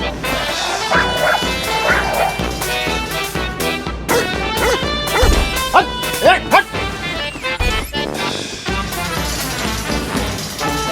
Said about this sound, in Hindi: रूम से आती जोर की आवाजों के साथ रोनी के भौंकने की तेज आवाज सुनकर